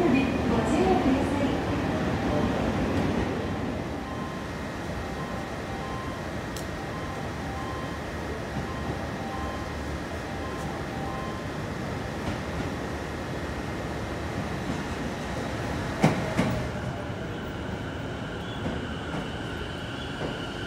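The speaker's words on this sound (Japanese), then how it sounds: "まもなく2番線に電車が参ります。" A Sotetsu 11000 series train, set 11003, rolls into a station platform with a steady, sustained rumble of wheels and motors. A brief sharp clatter sounds near the end, and a platform announcement plays beneath the noise.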